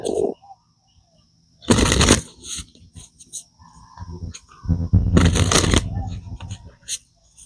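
A deck of advice cards is shuffled in two brisk, riffling bursts separated by a quiet pause, close and crisp.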